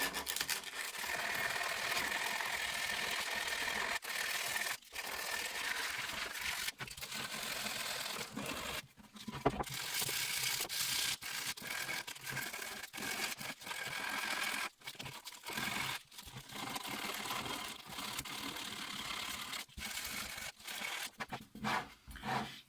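A guitar body is sanded with higher grit sandpaper, producing a steady, close rasping scratch that runs almost continuously, with brief pauses between strokes and no talk.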